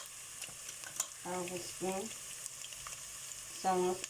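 Ground turmeric, chili and coriander hit softened onions in a pan for a rui fish curry with radish, giving a quiet continuous sizzle with a few brief tonal squeaks from stirring.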